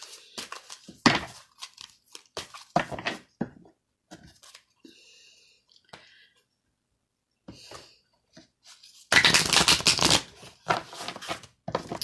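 Angel cards being shuffled by hand, with soft flicking and riffling early on, a quiet stretch, then a dense, loud burst of card shuffling near the end.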